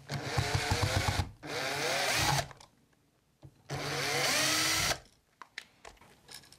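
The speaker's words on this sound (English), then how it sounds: "We'll use a power drill to remove the device." A cordless power drill spins out screws holding a wall outlet, two loud whirring bursts of about a second each separated by a quiet pause, followed by faint clicks and handling noises.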